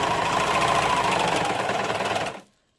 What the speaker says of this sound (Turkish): Önce overlock'ta birleştiriyorum.